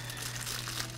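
Aluminium foil crinkled while a meat-and-potato foil packet meal is sealed, a short, close burst of dense crackling rustle over a steady low hum.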